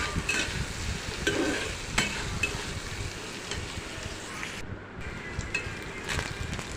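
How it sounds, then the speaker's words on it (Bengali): Dried loitta fish frying in oil while being stirred, a constant close sizzle with intermittent scraping of the spatula against the pan and occasional light clatter. "এখন এর মধ্যে দিয়ে দিব শুটকি, যাতে এটা তেলে ভালো করে ভুনা ভুনা হয়। ভালো করে নেড়ে নিতে হবে।"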